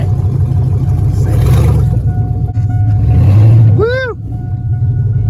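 Engine of a yellow GMC truck with a 4.8 V8 revs and drones while driving, loud and close throughout, with a rising whoop near the end and speech over the engine noise.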